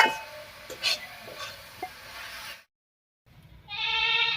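Grated coconut cooking down in a pan as its water dries off, stirred for Bengali coconut naru: soft scraping and faint sizzle for a few seconds, a brief silence, then a steady tonal hum.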